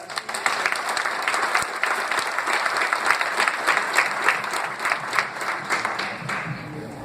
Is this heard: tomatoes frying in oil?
no